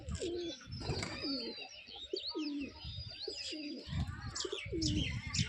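Pigeons coo close by in a steady repeating rhythm of low throaty calls, with thin chirps from other birds and soft wing flutters mixed in.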